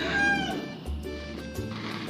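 Nearby chickens clucking in short repeated bursts, with a low rumble in the background.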